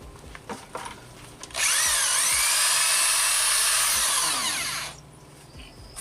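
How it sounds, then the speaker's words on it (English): A power drill mixing ceramic glaze in a bucket whirs loudly and close for about three seconds, its pitch wavering slightly as it churns, then winds down to quiet background. "I've got my drill. I'm just gonna mix it up and sieve it."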